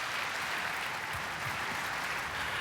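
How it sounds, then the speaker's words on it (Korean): A seminar audience gives a doctor a round of dense, steady applause that lasts the whole moment without pause. "박사님께 다시 한번 박수 한번 부탁드리고요"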